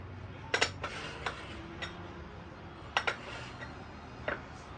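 Cast iron pan handled on a Big Green Egg grill while cooking a dry aged New York steak, giving a few sharp metallic clanks and clinks spaced apart over faint background hiss.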